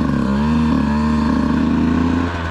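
A Beta off-road motorcycle engine idles steadily as it warms up after months unused, a loud, close, even drone with a firm low hum holding throughout.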